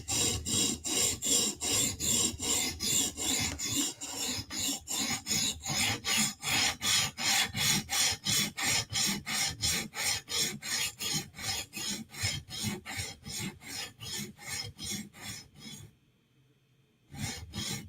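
A sharpening stone on a TSProf Kadet rig strokes a Protech Mordax knife blade in a fast, steady rasping rhythm of many close, loud passes, ending with a brief pause and one last stroke.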